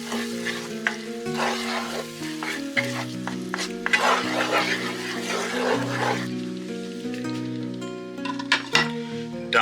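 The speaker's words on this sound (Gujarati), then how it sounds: "4 ટામેટાની પેસ્ટ, 1/4 ચમચી મીઠું. બધાને સરસ ફેરવી દઈએ." Liver masala in a pan with tomato paste and salt being stirred in, loud close sizzling and frying with repeated scraping stirs and clinks of a utensil against the pan, continuing for several seconds.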